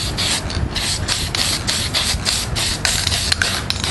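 Steady rasping strokes of sandpaper worked back and forth over the guide-coated body of a 1971 Chevrolet Camaro SS, a continuous close scratchy rubbing with a regular rhythm.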